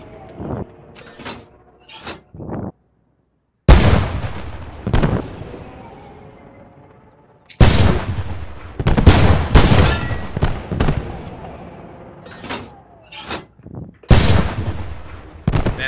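Anti-tank guns fire in the video game Post Scriptum with heavy, booming, close reports in irregular clusters. Gaps of near silence fall between them, and some shots overlap in quick bursts.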